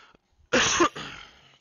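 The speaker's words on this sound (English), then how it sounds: "can you stop coughing in my ear" A single harsh cough bursts out close to the microphone, followed by a softer breathy exhale.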